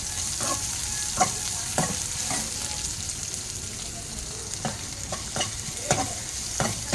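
Onion frying with curry leaves in a pan, a steady loud sizzle running throughout with intermittent scraping stir strokes, close up and without speech.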